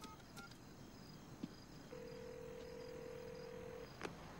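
Telephone keypad tones beep in a quiet room, a few short dialing blips followed by one long steady tone, faint and close, with no voices.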